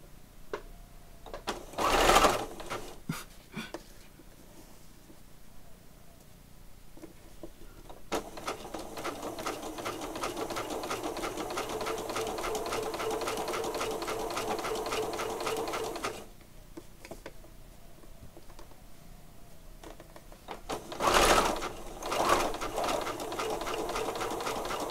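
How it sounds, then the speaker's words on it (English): A sewing machine stitches in separate runs: a brief loud burst, then a long steady whirring run of about eight seconds, then another short loud burst, with quiet pauses between them. "I'm going to sew it there."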